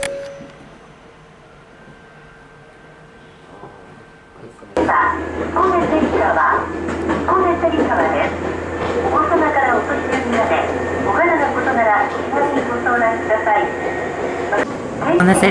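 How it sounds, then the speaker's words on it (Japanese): A JR local train passes an Ohmi Railway train stopped at Hikone station in Japan, a sudden loud rumble of wheels and motor that starts after a few seconds of quiet idling and continues steadily to the end. "そうこうしているうちに JR の普通列車がこの電車を追い抜かしていきました"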